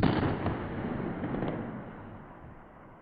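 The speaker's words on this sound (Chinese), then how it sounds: "炮班随即执行实弹射击，现场炮声震耳欲聋" A single heavy boom from self-propelled howitzers (M110A2 and M109A2) firing live rounds at a coastal artillery position in Taichung opens the clip, followed by a rolling rumble that fades over a few seconds.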